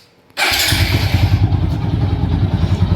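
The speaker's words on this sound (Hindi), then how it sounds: "चलो भाई बाइक को कर लेते हैं स्टार्ट।" A TVS Apache 200 motorcycle, which has a silencer sound problem, starts abruptly after a moment of quiet and settles into a loud, close, steady idle with a rapid, even exhaust pulse.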